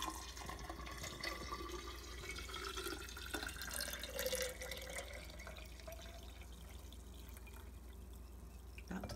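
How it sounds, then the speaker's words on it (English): Liquid is poured into a jar holding kefir grains for a water kefir ferment, a soft continuous trickle with faint splashing, quiet and close, with no talking. "And I just pour my liquid in."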